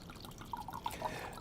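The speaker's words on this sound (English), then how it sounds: "a 4 to 6 ounce is not a big pour. It looks something like this." Wine poured into a glass, measuring a 4 to 6 ounce serving: a soft, steady liquid trickle with small splashy drips, quiet and close, with no talking.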